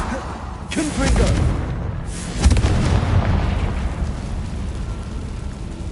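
A Confringo spell blast in Hogwarts Legacy lands as a deep rumbling boom with a fiery burst, then a sustained low roar that fades slowly.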